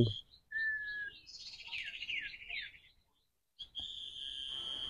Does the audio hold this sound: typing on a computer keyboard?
no